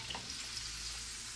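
Steady, faint sizzling of steak frying in a pan just after being turned, an even hiss with no voices.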